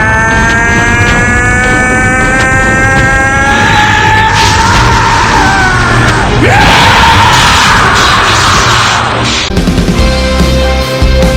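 An anime fighter powering up lets out a long, loud, sustained ferocious scream over a roaring energy surge and dramatic music, swelling in intensity before cutting off.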